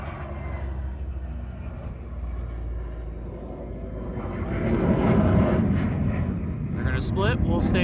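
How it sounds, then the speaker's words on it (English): A US Air Force heritage flight formation passes overhead at the Columbus, Ohio airshow. The jet engine roar swells gradually into a loud rushing rumble, with a commentator talking over it. "watch this rare formation approach from behind into the back for the final pass"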